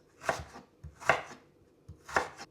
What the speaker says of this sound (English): For the ginger, you want to cut it into small strips, kind of like fries